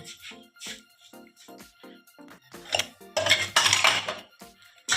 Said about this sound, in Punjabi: ਹੱਥੀ 'ਚ ਪਾਣੀ ਪਾਵਾਂ ਭਾਂਡਾ ਲਿਆਵਾਂ ਪਾਣੀ ਪਾ ਕੇ